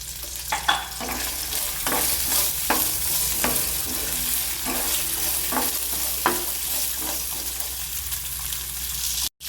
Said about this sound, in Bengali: মিনিট দুয়েক বিনসটা নাড়াচাড়া করে দিয়ে দিলাম গাজর আর ক্যাপসিকাম।